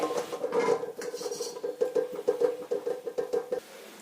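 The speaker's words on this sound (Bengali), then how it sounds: "আপনাদের ঢাকাটা খুলে দেখাই কেমনভাবে ফুটছে" A metal lid comes off a pot of jackfruit seeds boiling in water, giving a burst of clinks and rattles followed by steady bubbling and clatter of cookware, close and fairly loud.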